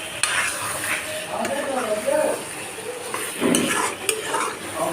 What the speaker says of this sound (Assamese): এইখিনি মই মটনখিনি ভাজি আছোঁ মই